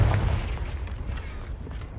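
A single blasting-spell explosion from the Confringo curse in Hogwarts Legacy booms loudly at the start, then decays into a rumbling tail that fades over about two seconds.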